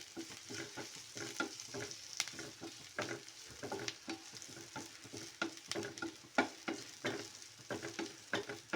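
Ginger, green chili and curry leaves fry in a pan with a steady soft sizzle. Rhythmic stirring scrapes and taps run throughout, close up and fairly quiet, with no talk.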